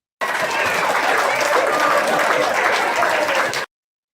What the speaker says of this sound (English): People clapping too.